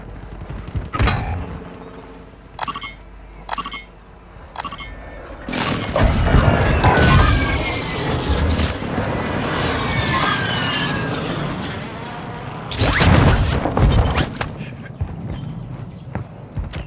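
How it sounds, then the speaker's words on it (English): Airstrike explosions in Call of Duty Warzone Plunder mode: a few sharp blasts, then a long, loud rumbling barrage with a second heavy burst near the end, overlaid with game voice lines. "Hostile called in an airstrike."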